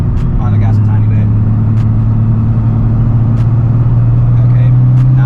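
A car cruises in fourth gear under light throttle, heard from inside the cabin as a steady, loud low engine drone that continues throughout.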